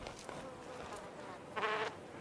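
A female sand wasp gives a short, close buzz of about a third of a second near the end, following quieter insect hum and faint rustles.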